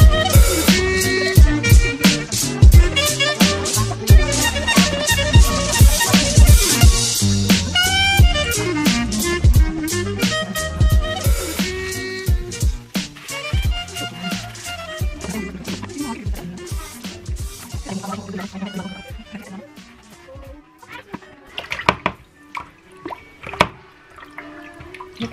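Fish from a catch are washed by hand in water, with continuous close splashing, dripping and sloshing that gradually quiets toward the end.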